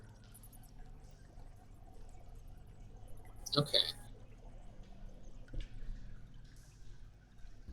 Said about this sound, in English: you still hear the persistent tinkling of water